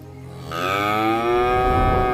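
A domestic buffalo lowing in a long, steady moo that starts after a short quiet lead-in and holds strong and close to the end.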